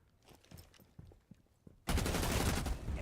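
Gunfire in a Rainbow Six Siege esports match: a few scattered, sharp single shots, then a sudden loud, dense burst of rapid fire that continues to the end.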